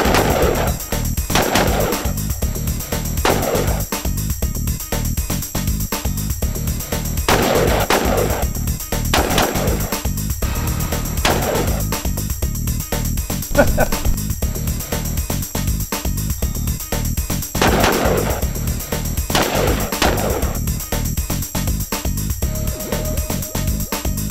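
Repeated gunshots ring out at a shooting range with electronic targets, sharp loud cracks spaced irregularly, some in quick pairs, over a steady background hum with no talking.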